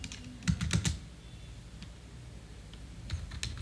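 Someone types code on a computer keyboard in quiet, close-up bursts of key clicks, with a cluster of strikes early and another near the end, separated by a pause.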